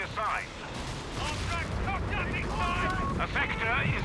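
In Company of Heroes 3, a creeping artillery barrage lands in a dense rumble of blasts and gunfire, with game voice lines and radio chatter over the top.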